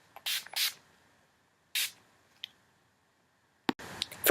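Urban Decay De-Slick setting spray misted onto a face in two short soft hisses, followed by faint clicks and rustling of the bottle, close and quiet.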